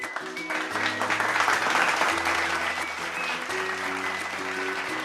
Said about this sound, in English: Now let us cheer for the winners of Grade 5.